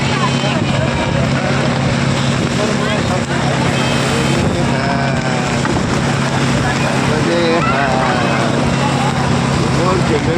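A boat's engine drones steadily on a sea crossing during the Narmada parikrama, mixed with wind and water noise, while voices chatter throughout.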